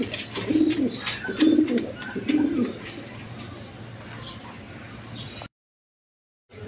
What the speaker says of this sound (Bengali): দর্শকবৃন্দ এখানে এক পেয়ার কবুতর আছে